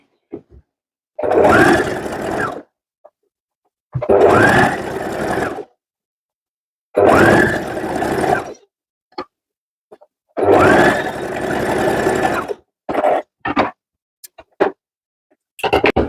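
A sewing machine stitches the folded hem edges of a pillow cover, running in four loud, close bursts of about one to two seconds each with short pauses between, then a few brief stop-start runs near the end.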